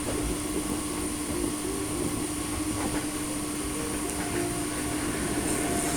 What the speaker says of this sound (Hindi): जीटी रोड पे जो पुल है उस पुल के नीचे से गाड़ी गुजरेगी और गुजर खान रेलवे स्टेशन की तरफ बढ़ेगी।